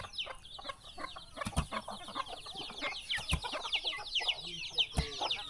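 Village chickens in a remote Lao ethnic-minority hamlet without electricity cluck in short repeated bursts, close and moderately loud, with occasional sharp knocks and faint background chatter.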